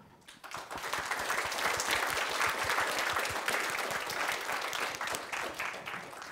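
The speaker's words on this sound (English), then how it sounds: "A round of applause, please." An audience at a WebAssembly tech talk gives a warm round of applause, many hands clapping densely and steadily throughout, loud and close, with no talk over it.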